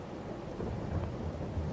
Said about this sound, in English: Oh, there's a thunderstorm